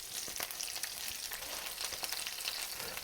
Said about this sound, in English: So we're going to add our spinach